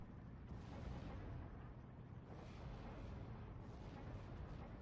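Rumbling 155mm off-map artillery shelling in the Steel Division 2 war game, a dense continuous barrage of distant booms blending into a steady roar.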